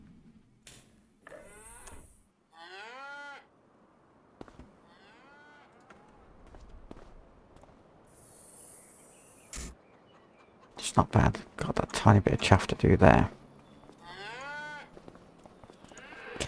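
Cows moo in the Farming Simulator 25 video game. Several moderate moos are spread across the scene, and someone talks between them. A brief, loud rattling clatter comes partway through.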